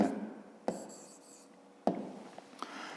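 Pen writing on paper in short bursts, with three distinct scratchy strokes separated by brief pauses, close and fairly quiet.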